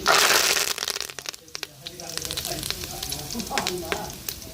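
Curry leaves drop into hot oil and burst into a loud crackling sizzle that fades, followed by sputtering pops and crackles with a voice speaking over them.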